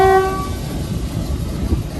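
A train on the Somerset & Dorset Heritage Railway rumbles past a signal box, a loud low steady roll with a brief horn tone at the start.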